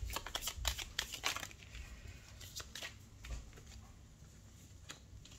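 Tarot cards are shuffled and drawn, giving quick faint riffling flicks and soft snaps in bursts, quieter slides and taps following, close and without voices.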